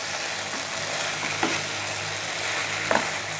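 Fried cauliflower is tossed in Gobi Manchurian sauce in a hot pan. A constant sizzle runs underneath, and two distinct scraping strokes of the spoon sound close by.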